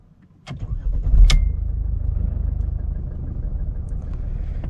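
A Mercedes GLK engine cranks briefly and catches, then settles into a steady low idle rumble, heard close up and alone.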